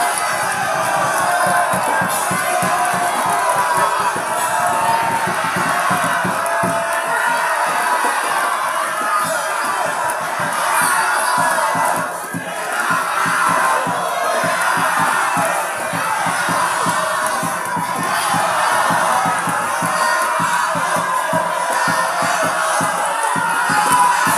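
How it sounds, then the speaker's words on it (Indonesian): Loud, dense crowd noise fills the hall at a 2024 South Sumatra governor candidates' debate, steady cheering and clapping from a large audience for the whole stretch with no pauses. "Tepuk tangan."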